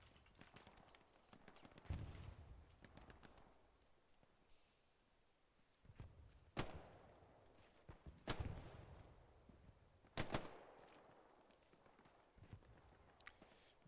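Gunfire in Hell Let Loose cracks out in a few sharp, separate shots, some close and loud, others fainter, over a busy background of footsteps and movement, with no talking.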